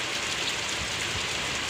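Heavy rain pouring down in Kanpur, a steady, dense hiss of drops drumming on surfaces close by, continuous and loud throughout with no voices.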